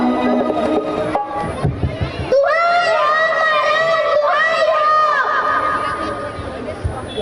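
A crowd of people shouts and yells together in a loud, rising clamour, with high voices overlapping and sustained for several seconds before fading slightly.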